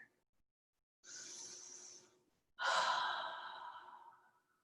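During a yoga pose, a person draws in one deep, full breath and lets it out in a long, breathy exhale, close to the microphone in an otherwise quiet room.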